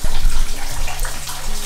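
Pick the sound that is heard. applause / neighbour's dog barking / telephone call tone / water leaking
water leaking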